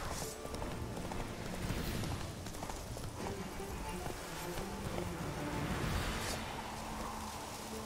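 Horse hooves clip-clop at a steady trot in The Witcher 3, loud and continuous over ambient game music and insect-like buzzing, with no voices over it.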